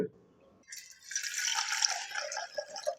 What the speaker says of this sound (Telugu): ఈ విధంగా కొంచెం వాటర్ పోసిన తర్వాత